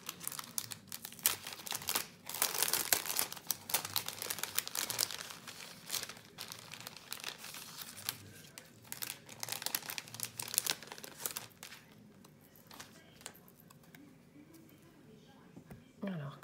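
Crinkly plastic sachet of paper cutouts being handled and rustled up close, with irregular crackling bursts and someone talking over much of it.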